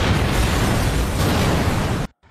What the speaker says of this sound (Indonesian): beberapa saat bisnya pun meledak